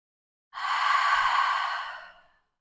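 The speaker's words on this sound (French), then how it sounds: "Prenez une profonde inspiration par le nez, profonde expiration par la bouche." Close, calm deep breath during a yoga session, a long airy inhale through the nose followed by a slow exhale through the mouth, heard alone in quiet for nearly two seconds.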